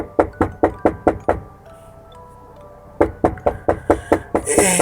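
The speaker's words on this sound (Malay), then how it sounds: "kedengaran pintu rumahnya diketuk." Knocking on a house door at night, two crisp rapid series of about seven sharp raps each, close and loud, separated by a quiet pause with faint tones.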